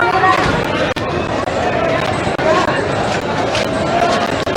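Dense street crowd bustle in Old Delhi, India, a steady wash of overlapping voices, footsteps and general hubbub, close and continuous throughout with a few brief dips.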